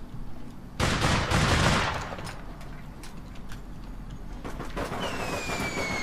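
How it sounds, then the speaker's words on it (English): Fireworks going off in the online game APB Reloaded: a dense, loud burst of crackling pops in the first seconds, then scattered sharper pops and a thin whistling streak, with no talking. "What's all the fucking fireworks?"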